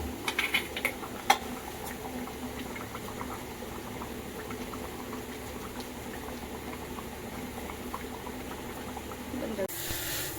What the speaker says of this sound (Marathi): कालवण बघा मस्त वेगळं उकळाला